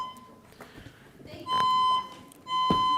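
A fire alarm goes off in a city council meeting room, loud electronic tone blasts starting midway and repeating twice, over faint room noise and soft background voices.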